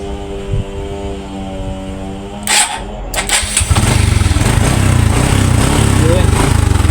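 A motorcycle fitted with a new electric starter cranks briefly and then fires into a loud, steady idle close by, the engine note taking over after a moment of hum and clatter.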